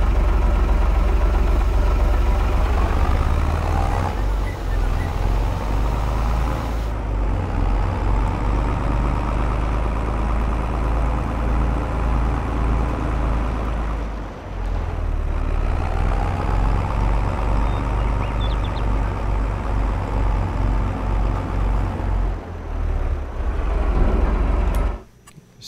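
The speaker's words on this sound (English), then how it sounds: "I think I just recently purchased this little tractor" A small 1630 tractor engine runs steadily and loud close by, a continuous low rumble with slight dips in pitch, on fields being cultivated with a broken tractor.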